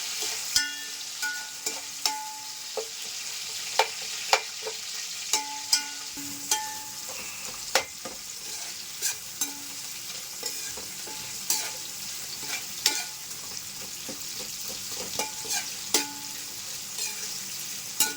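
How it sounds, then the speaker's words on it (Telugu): Chopped onions and green chillies fry in a pan for a mushroom biryani, with a steady sizzle underneath and regular sharp clinks of a spoon stirring against the pan throughout. "ఇప్పుడు ఉల్లిపాయ పచ్చిమిర్చి వేసేస్తున్నాను. వీటిని కూడా వేయించుకుందాం."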